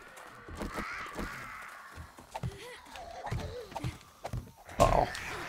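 Harsh bird caws repeat several times in the survival video game 7 Days to Die, mixed with game noises and scattered thumps, with a louder burst near the end.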